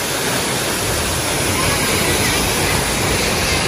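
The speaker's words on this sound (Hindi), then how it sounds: "फुल जबरदस्त आबशार है माशाल्लाह" Mountain waterfall in Kashmir pouring downhill in cold surroundings, a steady broadband roar of rushing water that fills the whole clip at close range without a break.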